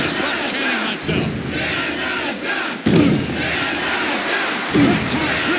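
A wrestling arena crowd chanting in the WWF Warzone game on PlayStation, a loud, dense roar of massed voices with rhythmic surges and a few heavy thuds, continuous throughout and without commentary.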